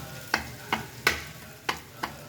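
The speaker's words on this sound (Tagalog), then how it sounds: "Durogin natin ang itlog. Lagay natin. Sayang. Tapos halo lang ng halo." A spatula stirs egg through Filipino fried rice with mixed vegetables in a pan, making five sharp, close scraping strokes at an uneven pace over a faint, steady sizzle.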